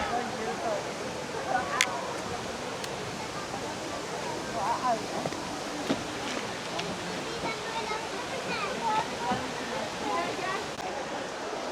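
Sütüven waterfall in Edremit, a continuous broadband rush of falling water, steady and fairly close, with no talk over it.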